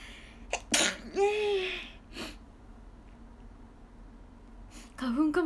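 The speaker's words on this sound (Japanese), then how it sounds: "くしゃみ出そう。" A single sharp sneeze bursts out close by, with quick breaths and a short vocal sound around it, then another brief sneeze-like burst near the end.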